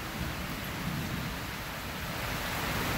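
Rain falling steadily outdoors, a dense, even hiss of drops with no voices, holding constant throughout.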